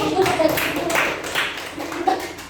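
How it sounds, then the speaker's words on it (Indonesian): Clapping in a classroom during a micro-teaching lesson, a short burst of scattered hand claps from several people mixed with voices. "Tepuk tangan dulu."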